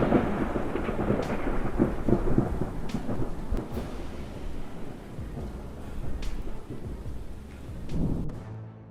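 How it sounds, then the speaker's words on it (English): Texas thunderstorm with heavy rain pouring steadily and deep rolling thunder rumbling through, loud and close, no voices. "Bright lightning during the Texas storm leaves everyone silent before the powerful and mysterious beauty"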